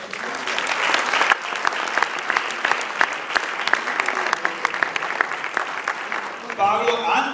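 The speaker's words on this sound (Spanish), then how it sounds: "Denle un aplauso al Señor." A church congregation breaks into loud, sustained applause during a Spanish-language service, dense clapping from many hands that carries on throughout, with a voice rising briefly near the end.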